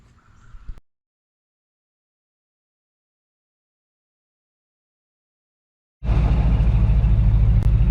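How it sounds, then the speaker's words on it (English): A 70-year-old military truck's engine sits silent for several seconds, then fires up abruptly and settles into a loud, close, deep rumbling idle. "I'm getting ready to start up, and we're going to take on for this ride."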